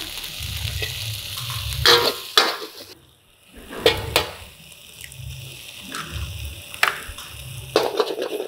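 Char kway teow noodles with vegetables and bean sprouts stir-fry in a wok: sizzling bursts come with repeated scraping and tossing strokes against the metal and a brief lull partway through, with no talking.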